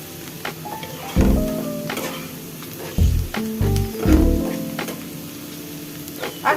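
Baghar tempering for vegetable and chicken khichuri frying in hot oil, a steady sizzle with intermittent clanks of a spoon against the pan as it is stirred.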